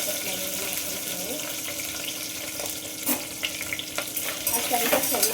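Chopped onion, green chilli and capsicum frying with spices in a pan, a continuous close sizzle with intermittent stirring and scraping, no talk over it.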